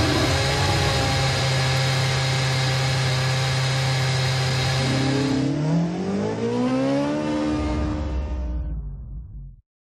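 A Formula 1 race car engine in the F1 2013 video game, at the Japan circuit: a loud, sustained high-pitched engine whine that holds steady, then sweeps upward in pitch before cutting off abruptly near the end.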